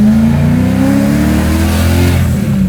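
Supercharged V8 swapped into a BMW E30 revving hard, a loud, close engine note climbing smoothly through the RPMs in one sustained pull with no talk over it.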